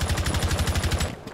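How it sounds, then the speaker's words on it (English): Rapid automatic gunfire in the video game Rainbow Six Siege, a quick even rattle of about a dozen shots that stops abruptly after roughly a second. "Who the fuck is shooting me?"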